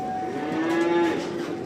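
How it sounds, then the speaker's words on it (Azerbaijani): A single fattening calf lets out one drawn-out, fairly loud moo inside a barn, rising and holding steady before fading, with no talk over it. "Qardaşı bax belə bordağa gedən danaları var"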